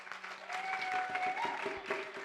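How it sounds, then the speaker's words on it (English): Audience applause for a congregation member at a Sunday church service, steady clapping from a gathered crowd with a sustained tone and some voices running underneath. "Can everybody give Norma an amazing round of applause for her share?"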